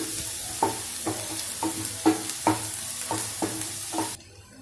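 Ginger, garlic and onion sizzle steadily in a pan for egg masala, with a spoon stirring in regular scraping strokes about every half second over the constant frying hiss; no talking.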